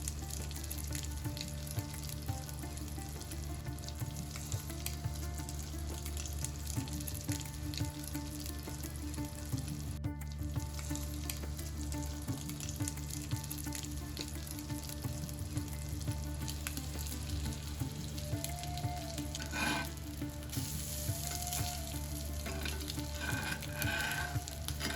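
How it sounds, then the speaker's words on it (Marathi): Egg patties shallow frying in hot oil in a pan, a steady, dense sizzle and crackle that runs without a break, close and fairly loud, with a few faint clinks near the end. "तेल गरम झालं की त्यात एक एक पॅटीस फ्राय करण्यासाठी सोडू"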